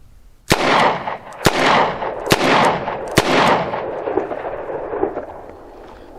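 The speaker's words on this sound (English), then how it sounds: "So I'm going to fire 4 rounds, and then just kind of pay attention maybe to the recoil." Four sharp gunshots from a Rock Island Model 206 .38 Special revolver, two standard loads then two +P, crack out at roughly one-second intervals, loud and close, each followed by a rolling outdoor echo.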